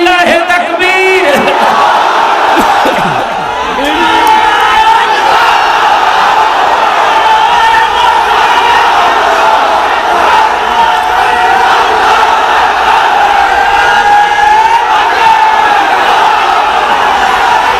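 A large crowd at an outdoor Islamic religious gathering answers a takbir call with a loud, sustained unison shout that holds strong for many seconds as massed voices roar together.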